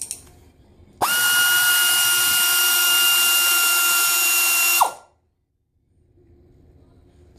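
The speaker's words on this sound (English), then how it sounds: "So I'm going to go ahead and turn this screw out." A power tool, likely a drill or impact driver, spins out a brake caliper screw on a 2007-2012 Mazda 6 front brake, one loud steady whirring burst of about four seconds that stops abruptly, with quiet workshop ambience before and after.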